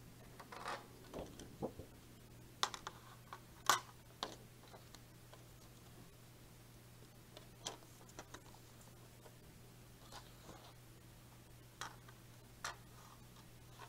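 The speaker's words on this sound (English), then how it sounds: "So now we're going to take out our trimmer and do a little trimming." A paper trimmer slicing an 8.5 by 11 sheet for a fall flip book gives scattered soft ticks and sharper clicks at irregular intervals over a steady low hum, with no talk.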